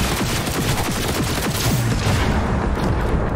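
Rapid gunfire bursts in Cyberpunk 2077, loud and close, a dense run of shots under a steady combat din with no talk.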